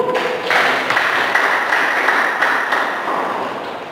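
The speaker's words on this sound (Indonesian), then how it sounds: "Beri tepuk tangan buat Ibu." A church congregation applauding at a worship service, dense clapping that swells in after a moment and holds steady for a few seconds before tapering slightly.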